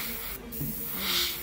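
Spray paint can hissing onto a Nendoroid Obitsu custom figure, a steady close airy spray with a brief gap, building louder toward the end, with no talk.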